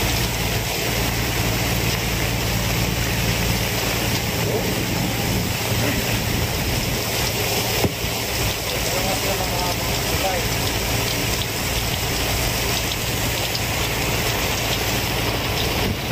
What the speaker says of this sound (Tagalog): Grabe, biglang lakas ng ulan.